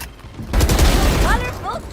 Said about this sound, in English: And gets a kill with both his grenade and a Vandal kill on ramp